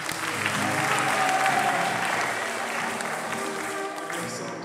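A crowd applauding a visiting trainer at a youth gathering, sustained many-handed clapping that swells and then slowly thins, with faint voices mixed in.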